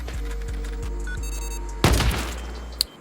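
Explosive 5.56 rounds fired in the video game Rust, a rapid series of sharp thumping shots followed by a loud burst of blast noise, with a final crack at the end, close and loud.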